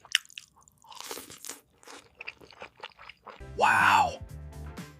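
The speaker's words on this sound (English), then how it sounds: "Eating this gimbap with the tteokbokki sauce is amazing." Crunchy eating of gimbap dipped in tteokbokki sauce, close chewing and biting sounds mixed with a person talking between bites.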